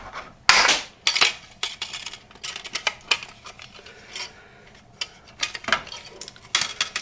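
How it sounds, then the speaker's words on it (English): Tin snips cutting excess sheet metal on a homemade hot tent stove, a series of sharp metallic clips and clinks with irregular rhythm, close and fairly loud, with no talking. "And all you do is just snip off the excess."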